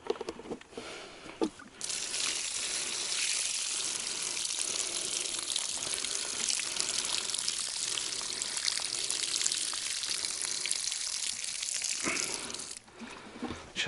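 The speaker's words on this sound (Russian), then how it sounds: "Сейчас меняем воду." Water is poured out and replaced in a bait container beside a forest river, a steady rushing splash lasting about ten seconds, close and fairly quiet.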